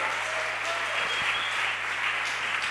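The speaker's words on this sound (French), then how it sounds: "Applaudissons pour le Seigneur." A church congregation applauds during a French-language sermon, a steady wash of many hands clapping at moderate distance with a low hum underneath.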